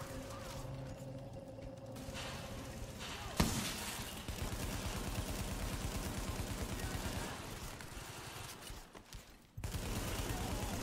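Gunfire in The Division video game arrives in loud rattling bursts and single sharp shots, with mechanical clatter between them and a brief pause before the firing resumes.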